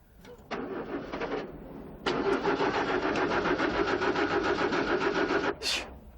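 A flooded car engine cranks repeatedly without catching, a short burst of starter churning followed by a longer steady grinding crank, close and loud, with no talk over it.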